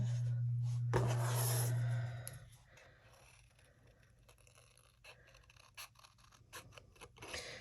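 Scissors fussy cutting paper for a handmade stand-up card, close soft snips and rubbing paper noises at an uneven pace, after a loud low hum that stops about two seconds in.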